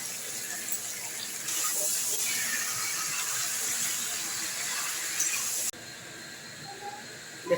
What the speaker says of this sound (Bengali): দেখুন, মাংসটা ভাজা হয়ে গেছে।